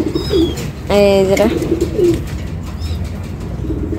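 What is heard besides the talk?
lakkha (fantail) pigeon cooing and flapping wings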